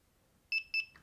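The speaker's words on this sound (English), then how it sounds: "So if I want to do that, just turn the alarm on." A Delkim fishing bite alarm beeping: two quick pairs of high electronic tones, close and clear, with a softer tone trailing after.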